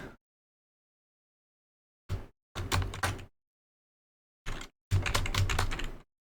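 Keys tapped on a computer keyboard in short bursts separated by silence, close and crisp, two main runs of rapid typing with a few isolated presses.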